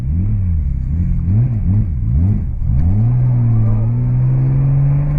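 A Subaru Legacy with a swapped-in H6 six-cylinder engine accelerates hard, its loud droning exhaust note climbing and dropping through quick revs before settling into a long, steadily rising pull; no talking.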